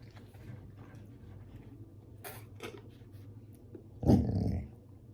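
A dog gives a low, rumbling growl at a mailman, a steady low rasp that swells into a louder, brief snarling burst near the end, heard close up in a quiet indoor room.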